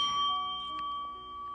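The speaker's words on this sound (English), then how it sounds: "let me ring the bell. This is just to clear the energy here" A bell rung once at the start of a live reading gives a clear, sustained ringing tone that holds steady and slowly fades, heard alone with no talking.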